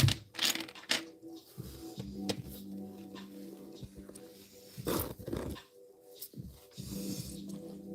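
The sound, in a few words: dog barking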